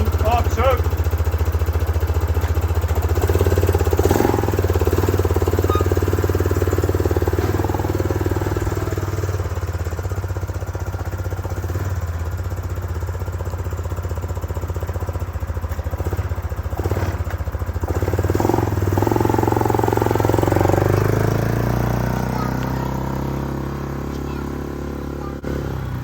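A Yamaha Grizzly 660 ATV engine, just started after sitting almost three years, runs steadily off choke with a continuous low rumble and throttle swells near the end, with people speaking over it.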